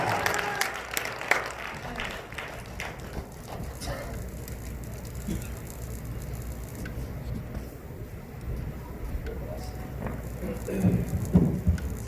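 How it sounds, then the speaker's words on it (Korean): Sustained audience applause at a church gathering fills the room, a dense steady patter of many hands lasting throughout, with some voices mixed in and a slight swell near the end. "큰 박수 한번 합시다."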